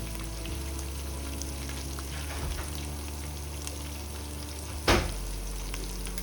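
Beef pieces for a degi-style yakhni beef pulao go back into a hot pot and fry with a steady, close sizzle, with a single soft clunk partway through.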